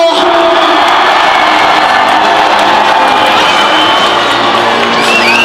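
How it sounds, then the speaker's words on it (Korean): A baseball stadium crowd roars after a thrilling walk-off win in a LG vs Hanwha game, loud sustained cheering, whoops and shouts with clapping mixed in, a dense continuous wall of noise throughout. "선수에게 다시 한번 힘찬 박수 함성을 부탁드립니다"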